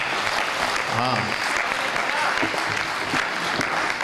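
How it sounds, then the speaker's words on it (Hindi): A crowd at a Hindi comedy poetry gathering in Jodhpur applauds in a steady, full roar of clapping, with a voice briefly heard over it. "आपने जो घनघोर तालियां मेरे सम्मान में बजाई"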